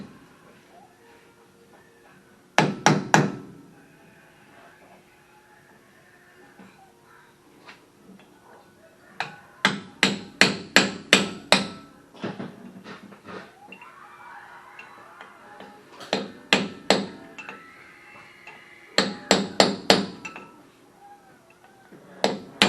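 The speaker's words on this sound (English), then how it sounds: "You don't want to tap or hammer it on the outer edge of this cap" Sharp metallic taps in short clustered bursts, several rapid hammer strikes on a disc brake cap of a 1968 Oldsmobile Cutlass at a time, separated by quieter pauses with faint background noise.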